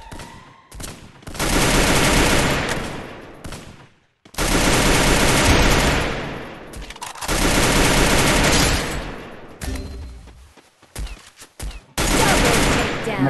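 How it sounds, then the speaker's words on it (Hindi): Loud gunfire bursts from a battle royale mobile shooter game in solo versus squad play, sniper rifle among the weapons, with long dense volleys separated by brief gaps and faint voices under the action. "बोल रहे स्नाइपर चला रहा है"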